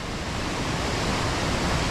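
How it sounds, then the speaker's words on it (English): Torrents of water crash over big boulders at Cotter Force, a dense, loud and unbroken roar heard up close. "listen to the torrents of water coming down"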